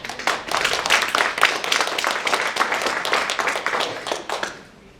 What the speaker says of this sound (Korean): 큰 박수로 맞이해 주기 바랍니다